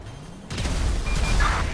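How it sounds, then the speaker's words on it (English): A vehicle explodes in Grand Theft Auto V, a sudden broadband burst that swells into a sustained, roaring rumble with crackling debris, loud and close and lasting to the end without any voices. "Citizens reporting a vehicle explosion on Integrity Way in Textile City."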